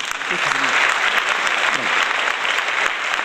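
Steady, loud applause from a crowd at a Roma ball, with dense clapping filling the whole stretch without a break.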